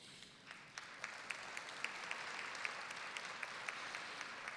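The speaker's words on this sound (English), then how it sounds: "A wonderful round of applause for each and every one of you who are nominated tonight." At a nurses' awards ceremony, a crowd applauds the nominees with soft, distant clapping. Individual claps stand out against a steady wash of applause that holds even throughout.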